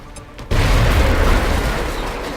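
A frag grenade goes off in XCOM: Enemy Within. After a short quiet lead-in, one sudden loud boom hits and becomes a dense, roaring rumble that fades slowly, with no voices.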